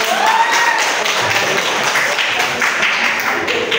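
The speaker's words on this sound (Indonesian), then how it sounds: "berikan aplaus untuk kelompok" An audience applauding a group, steady clapping from many hands filling the space at close range with a faint voice in the background.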